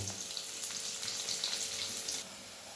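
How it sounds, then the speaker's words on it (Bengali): Chopped onion frying in a pan, a faint, steady hiss of sizzling oil that drops off near the end, with no voices. "তো দিয়ে পেঁয়াজটাকে আমি একটু ভাজা করে নেব।"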